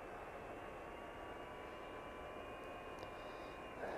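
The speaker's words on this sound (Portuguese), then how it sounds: "este drone vai a todo lado" A DJI FPV drone flies in late-afternoon light, giving a steady, high-pitched motor whine over constant airy rush, with no voices.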